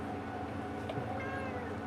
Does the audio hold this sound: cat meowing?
yes